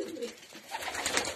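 Pigeons in a loft of young racing pigeons coo and call softly for a brief moment, low rolling coos joined by brighter chirps, fairly close and with no one speaking.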